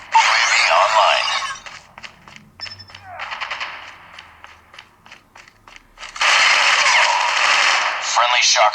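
Rapid automatic gunfire from Call of Duty played on an OPPO Reno 3 phone, loud sustained bursts at the start and end with quieter mechanical clicks and brief game radio chatter between.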